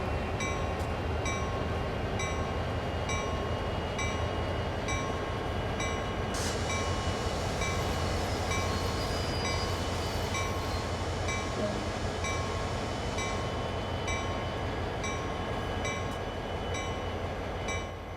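A locomotive train rumbling steadily in the video game Train Sim World 2, with continuous close engine drone and a rhythmic ticking pattern throughout, and a brief sharp clank partway through.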